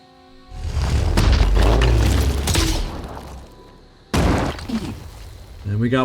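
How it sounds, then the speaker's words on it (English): Vishnu weapon fired in the tactical video game Phoenix Point: Terror From The Void, a loud booming blast with a long rumbling tail, followed by a second sharp burst, with speech running over it. "just shoot a Vishnu over here to help us out"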